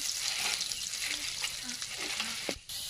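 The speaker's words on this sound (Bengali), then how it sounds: "এখন করে নেব পেঁয়াজের বেরেস্তাটা।" Sliced onions sizzle and crackle in hot oil as they fry into crisp beresta, a steady close hiss that holds throughout with a brief dip near the end.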